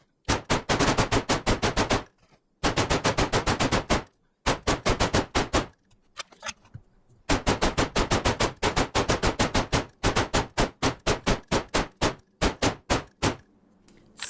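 Loud, close bursts of AK-101 automatic rifle fire from the DayZ video game, aimed at a base wall during a raid, coming in rapid rhythmic volleys separated by short pauses, with no talking.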